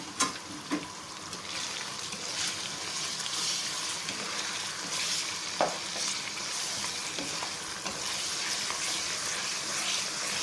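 Whole spices and ginger garlic paste fry in a pan for aloo pulao, with a continuous close sizzle, occasional stirring scrapes and a few sharp pops over about ten seconds.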